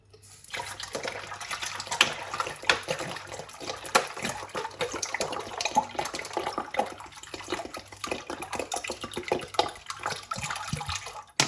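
Water poured from a 1.5 litre bottle into a lassi mixture, a steady close splashing and gurgling stream that runs almost without pause, with no talk over it.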